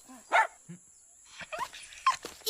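A dog named Buluc barks in a few short, sharp yips, close by and separated by quiet gaps, with no one speaking.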